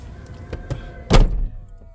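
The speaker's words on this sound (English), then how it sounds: "let's close the door" A bedroom door swings shut with a single solid thunk, preceded by a few light bumps and creaks, close by and alone.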